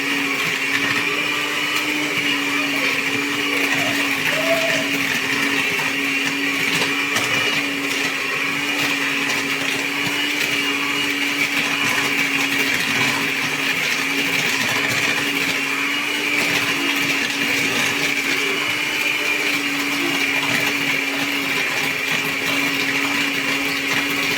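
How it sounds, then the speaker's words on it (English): Electric mixer creaming sugar and margarine for a vanilla cake batter, a steady loud whirring motor hum running without pause, close by and alone with no talk. "it is important you cream sugar and margarine for at least 5 minutes"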